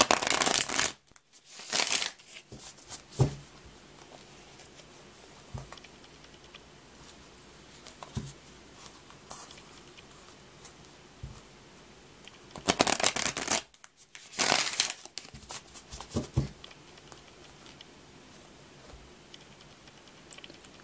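Tarot cards are shuffled in quiet, close riffling bursts at the start and again midway, with soft scattered taps and handling sounds between, no talking.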